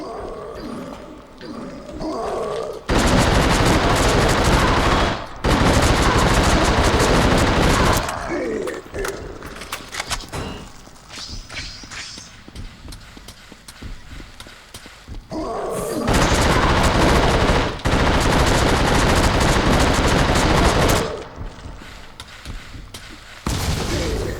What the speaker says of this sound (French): J'ai claqué toutes mes munitions contre cet enfoiré.